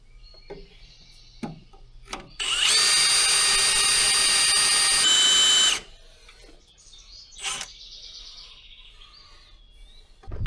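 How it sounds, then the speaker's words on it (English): A loud, high-pitched power drill whines steadily for about three seconds while drilling through thick steel on a crane truck, with quieter clanks and shuffling before and after. "I'm just drilling away here thinking there's no way that steel is that thick."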